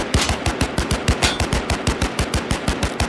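Rapid automatic gunfire in a battle royale game, a loud, close, evenly paced stream of shots at roughly six per second with no pause.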